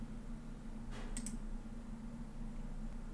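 Two quick, light mouse button clicks in quick succession, close by, over a steady low room hum, with no talk.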